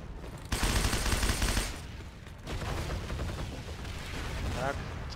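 M2 Carbine gunfire in the game Heroes & Generals, rapid automatic shots and distant battle fire crackling under someone talking, loud bursts at the start then steadier shooting.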